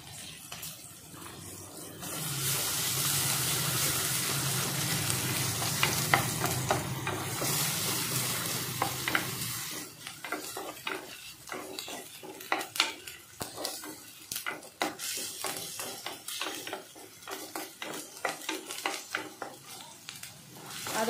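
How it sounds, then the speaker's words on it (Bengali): Ginger garlic paste fries over medium flame in a clay pot while being stirred. A steady sizzle gives way to repeated scraping and clinking of the utensil against the pot. "আদা রসুন পেস্টটাকে 1 মিনিট মতো ভেজেছি, মিডিয়াম ফ্লেমে আছে"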